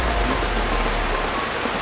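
Heavy rain pours down at the foot of a mountain during an outdoor trek, a dense, even hiss filling the short stretch with no talking.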